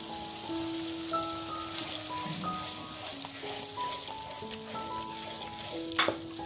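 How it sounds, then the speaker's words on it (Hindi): Red chili powder, turmeric and salt are mixed into a ginger curry in a pan, with gentle stirring and a low sizzle under faint background music, plus a brief sharper scrape near the end. "अच्छी तरह मिक्स कर दूंगी।"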